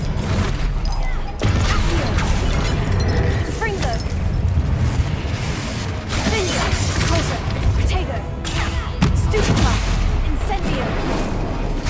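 Spell-casting combat in Hogwarts Legacy, including the Expelliarmus disarming spell: dense bursts of magical blasts, crashes and thuds rolling loudly one after another, with a character's voice speaking over the fight.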